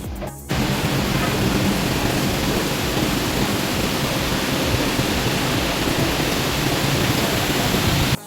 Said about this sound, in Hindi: अब हो रही है बारिश तेज, बहुत तेज हो रही है